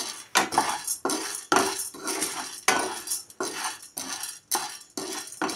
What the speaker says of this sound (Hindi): और इसे जो है सबसे पहले हम थोड़ा सा भून लेंगे कढ़ाई में।